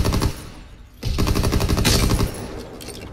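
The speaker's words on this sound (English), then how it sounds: "Hear somebody shooting" Rapid automatic gunfire fills a Call of Duty WW2 multiplayer match in loud continuous bursts with a brief lull near the middle. The shooting is close and sustained, with no talking.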